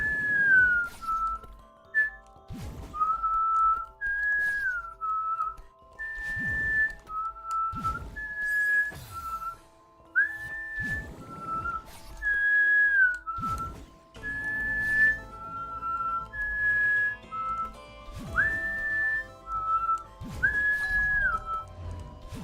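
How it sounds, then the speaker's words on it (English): A recurring melodic whistle from the Celeste video game, the B-Side cassette level, sounds as short gliding phrases over steady music with clinking percussive hits, repeating throughout. "Yes, spooky whistling indeed."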